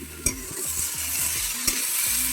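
Mixed vegetables sizzle in a pan over a clay stove while a utensil scrapes and stirs them in a repeating rhythm, with two sharp clanks standing out over the steady frying, close up with no talking.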